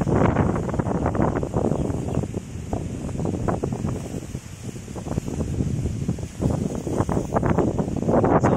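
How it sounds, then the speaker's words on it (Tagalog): Strong wind roars and buffets the microphone steadily throughout while flying kites, with gusty surges and no voices. "Grabe yung lakas ng hangin guys."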